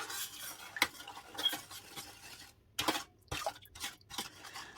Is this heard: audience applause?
no